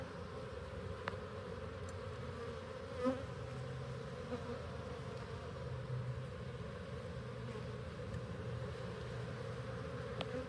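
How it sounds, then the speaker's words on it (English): Steady, droning buzz of many honeybees close by on a hive frame during an inspection, constant and even throughout with no voices. "And plenty of bees on here too."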